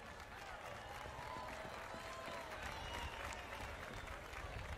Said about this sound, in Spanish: Con el aplauso de ustedes fuerte ahí, para animarlo al hombre.